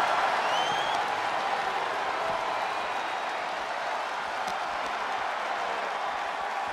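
A wrestling match crowd applauds and cheers in a large hall, a dense continuous wash of clapping and crowd noise with no clear speech.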